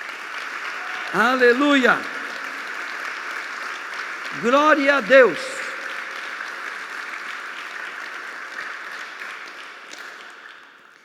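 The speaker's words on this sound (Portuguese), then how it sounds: "Dê uma salva de palmas para Jesus então." A church congregation gives a continuous round of applause for Jesus, a steady wash of clapping while a voice twice shouts praise over it, the clapping thinning out toward the end.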